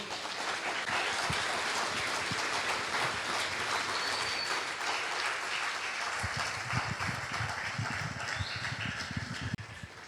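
Applause from a church congregation during a Spanish-language sermon, a broad sustained patter of many hands that fills the whole stretch at steady loudness, dense and roomy, with no voices on top.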